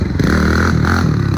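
A motorcycle engine revs loudly and close by, its pitch rising and dipping over a brief burst.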